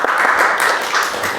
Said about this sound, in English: let's give a round of applause to Rabbi Benzim